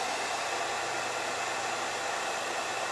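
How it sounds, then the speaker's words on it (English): A hair dryer blows steadily with a constant hissing whoosh, close and unchanging throughout. "let me get this hair dryer going"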